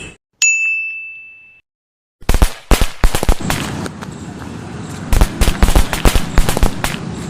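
A box of Diwali firecrackers goes off after a faint ding and a short pause, erupting into a rapid, loud crackling barrage of sharp bursts that keeps rattling close by for several seconds.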